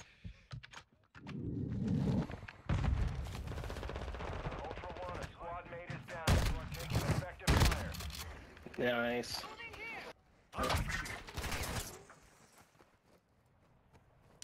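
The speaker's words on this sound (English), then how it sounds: "I killed you with a bot gun" Bursts of gunfire in Call of Duty DMZ crack out in sharp, repeated volleys between stretches of game noise, with players talking over and between the shots.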